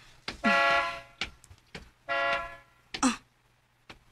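A car horn sounds in short bursts, two long honks and a few brief toots, fairly close, with quiet gaps between them.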